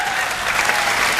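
An audience applauds at a Hindi poetry recital (kavi sammelan), a dense, steady burst of clapping from a crowd that carries on without a break for its whole length, close and loud, with no voices over it.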